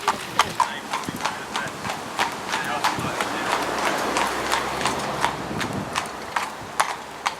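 Rapid, steady clip-clop of horse hooves on hard ground, a close rhythmic trot pulling a carriage, with a voice talking over it.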